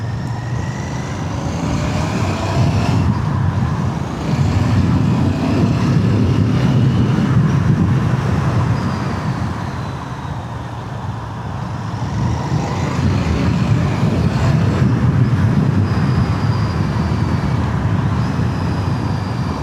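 A new Royal Enfield Bear 650 motorcycle on new tyres is ridden on the road, heard as a loud, continuous engine drone and wind rush that rises and falls gently as it pulls away and shifts.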